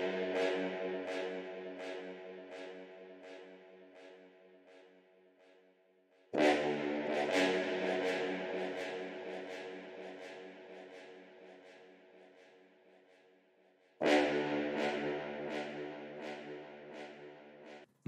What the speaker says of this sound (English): with all them effects added, the brass sounds like this